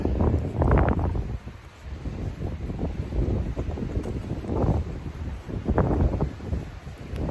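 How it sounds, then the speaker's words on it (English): Wind buffets the microphone in rough gusts, rising and falling over several seconds with a low rumble and some rustling. "It's not too bad when the wind gusts aren't hitting you"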